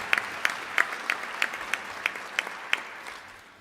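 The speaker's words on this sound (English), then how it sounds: "So please join me in a round of applause as we welcome our students." At an economic policy luncheon, an audience welcomes university students with light, evenly spaced clapping, a few crisp claps repeating about three times per second and slowly thinning out.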